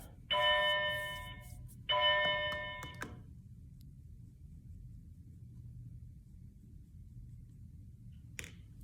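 Two electronic doorbell chimes ring in succession, each decaying over about a second, followed by near silence and a faint click.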